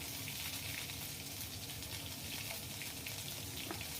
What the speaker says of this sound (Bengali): এবার মশলাগুলো ভাজা হয়ে গেলে আমি হাফ চামচ আদা বাটা দিচ্ছি